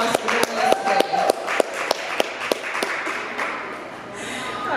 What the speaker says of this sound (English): Y'all give them a round of applause for joining us today.